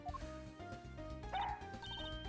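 Missile the dog from Ace Attorney Investigations 2 gives a few quick, high yipping barks and whimpers over steady game music, no talking.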